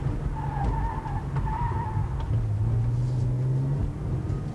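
A car skids through a slalom on a test course, with wavering tire squeals over a low engine rumble heard from nearby, the squeal tone shifting as the car changes direction.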